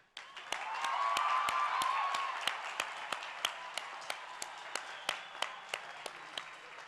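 A high school graduation audience at Tascosa High bursts into applause and cheering, a dense wash of clapping that swells early then thins into scattered, sharp individual claps toward the end.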